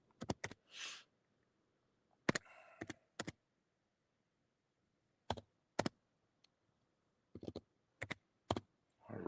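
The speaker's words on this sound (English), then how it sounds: "Go ahead and just type that in." Short bursts of computer keyboard typing as a barcode number is keyed in, quick clusters of soft clicks separated by quiet pauses, close and fairly faint, with a brief rustle early on.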